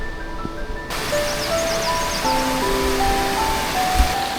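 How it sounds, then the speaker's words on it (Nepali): A small mountain stream in the Langtang Valley gives a steady, close, full rush of flowing water that covers the whole stretch, with faint tonal sounds drifting above it. "यो हल्का सानो खोला"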